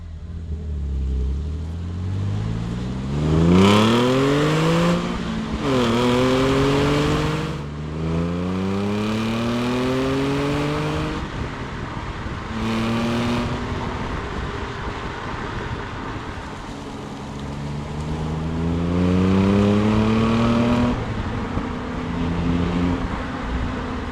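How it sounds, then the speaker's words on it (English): Supercharged Audi S4 sedan driving and accelerating, engine note climbing through repeated rising pulls with brief gear changes in between, loud and close for over twenty seconds. "I say we take this thing for a drive"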